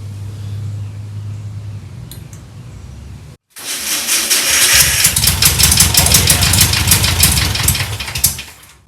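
A VW Beetle engine, unrun for 25 years, cranks and catches after a low hum, then settles into a loud, rough, rattling idle close by.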